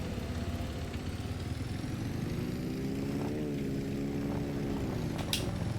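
A tractor engine in the Farming Simulator 25 video game runs steadily at a low, droning idle with a slight rise in pitch midway, continuous and fairly close with no talking.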